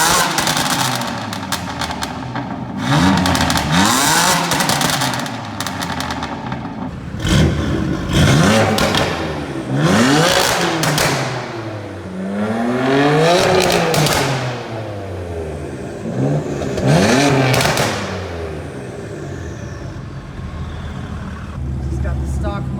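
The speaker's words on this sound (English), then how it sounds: "we're gonna do a little rev battle for you guys to take a listen to" A BMW M3 F80 with a Remus exhaust and Active Autowerke midpipe revs hard in a rev battle beside another car, its loud, close engine rising and falling repeatedly for the whole stretch.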